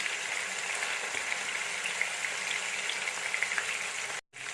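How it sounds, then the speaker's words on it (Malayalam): Chicken for a Dhaba-style curry frying in a pan over high heat, a steady dense sizzle with scattered crackles and pops running continuously, close and fairly loud. "ആദ്യത്തെ 5 മിനിറ്റ് നല്ല ചൂടിൽ വേണം വറുത്തെടുക്കാൻ."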